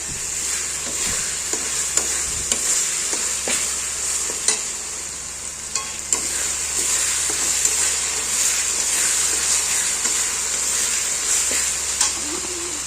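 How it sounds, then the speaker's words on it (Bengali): Fresh chicken fries in spice paste for a korma and gets stirred, giving a constant close sizzle broken by repeated spatula clicks and scrapes against the pan. No voices. "ফ্রেশ চিকেনটা দিয়ে দিলাম। এই চিকেনটা এখন দিয়ে দিয়েছি, চিকেনটা নাড়তে হবে।"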